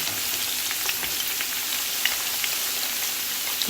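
Bitter gourds (karela) deep frying in hot oil, a steady close sizzle with scattered bubbling pops throughout, no voices.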